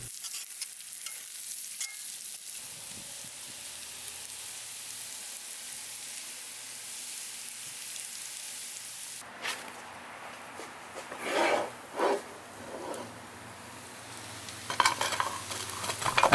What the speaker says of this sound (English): We want to mix up the pumpkin into the bacon grease as much as possible.